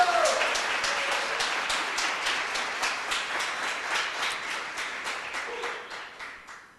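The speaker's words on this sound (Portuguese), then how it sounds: "Você pode aplaudir o Senhor e glorificar o Espírito Santo?" Church congregation applauding during a worship service, a steady wash of many hands clapping that holds for several seconds and then tapers off, with a voice briefly audible underneath.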